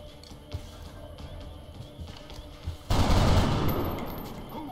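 Gunfire from soldiers in XCOM Long War, a brief burst of shots that opens into a loud, sustained roar of fire in the second half, with quieter ambient sounds before it.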